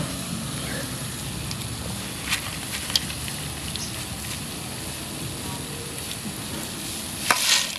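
Peanuts being roasted and stirred in a large pan give a steady rustling, scraping hiss that runs throughout, with a few brief clinks of the utensil against the pan.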